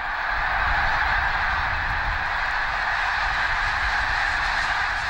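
A huge flock of greater snow geese on a lake, honking in a continuous, dense cacophony of overlapping calls that holds steady and loud throughout.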